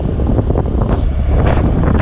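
Cold wind blows outdoors in Shillong, Meghalaya, buffeting the microphone with a loud, steady, rushing rumble that barely lets up.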